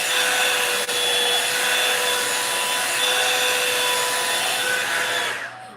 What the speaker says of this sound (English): I know I keep turning off this blow dryer